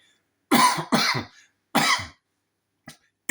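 Several sharp, raspy coughs in quick bursts, close to the microphone, with short pauses between them and a faint final cough.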